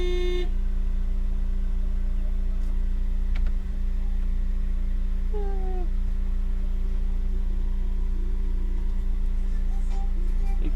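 A car engine runs loudly and steadily through the whole stretch, a constant low drone with a humming overtone and no pauses, and no one speaks over it.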